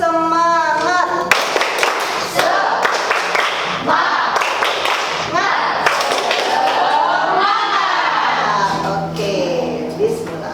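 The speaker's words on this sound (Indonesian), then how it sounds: "kita lakukan tepuk semangat dulu terlebih dahulu ya" A classroom of students performs a rhythmic clapping chant, sharp patterned hand claps and thumps punctuating loud group voices chanting together, close and energetic over about ten seconds.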